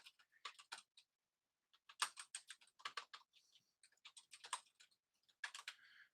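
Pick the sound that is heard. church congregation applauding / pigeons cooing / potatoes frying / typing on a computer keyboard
typing on a computer keyboard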